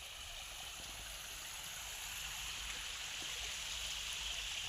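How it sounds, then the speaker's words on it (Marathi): Stream water flows gently and steadily, a soft continuous babble heard from a little distance, with no voices. "हे वाहणारं झुळझुळ पाणी"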